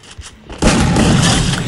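A sniper rifle shot in a shooter video game, a sudden loud boom after a brief quiet moment with faint clicks, followed by a sustained dense rumble that fills the rest of the moment.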